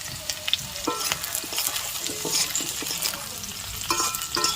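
Okra and potato frying in a pan as green chilies are stirred in, a dense crackling sizzle with quick spatula scrapes and clatters, close and continuous with no voices.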